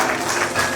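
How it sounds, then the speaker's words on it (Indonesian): Wedding guests clap briefly at a holy matrimony ceremony, a short burst of steady, dense applause with no voices over it. "Yeay, kita tepuk tangan."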